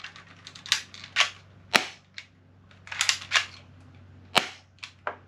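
A FIREPOWER .45 airsoft pistol fires about a dozen sharp, snappy shots in quick, irregular bursts and single pops. The shots are close and loud, with short quiet gaps and no speech.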